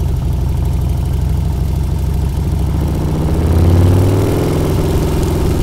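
A 2001 Harley-Davidson Road Glide SE motorcycle engine idling nearby, a loud, steady low rumble that swells briefly as the revs rise and then settles back.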